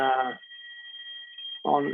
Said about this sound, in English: Sorry, just checking if it's a fire alarm for real or not.